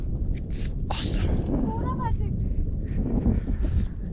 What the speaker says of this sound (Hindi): यहाँ पे शांति भंग करने के लिए बस हवा चल रही है